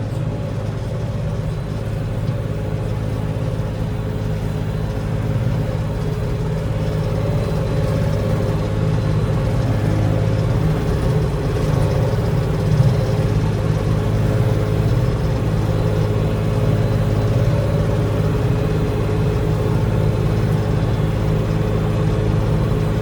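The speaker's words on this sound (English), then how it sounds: "I decided since I had the tractor, I'd go ahead and just finish off mowing between my little four-wheel trail." A tractor engine runs steadily while mowing a field beside a trail, a loud, low, even drone with a constant hum and no break over the whole stretch, close and without talk.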